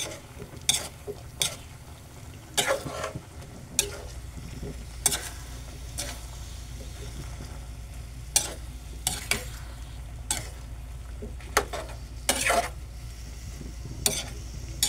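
Eggplant cooking in a pan of coconut milk for a Filipino ginataang talong with dried anchovies, giving a low steady simmer with sharp spoon-and-pan clinks and stirring scrapes recurring throughout, close and moderately loud.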